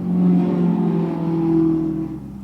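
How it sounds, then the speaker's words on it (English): A loud car passes in traffic outside, its engine a low, steady rumble that swells and then fades away over a couple of seconds, with no talk over it. "I know that you guys told me not to apologize for cars, but you can't tell me that you couldn't hear that."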